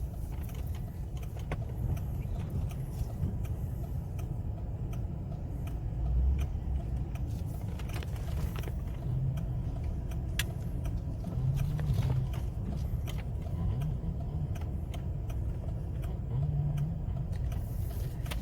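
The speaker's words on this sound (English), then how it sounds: "Cars are turning around, coming back down." Cars turning around on a snowy road during the first snow, a steady low engine rumble with tyres on slush, vehicles passing at moderate distance, no talk.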